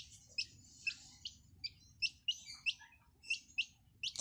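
A newly hatched native chick chirps loudly and repeatedly, about a dozen sharp peeps at an uneven rhythm, close by over a faint low background hum.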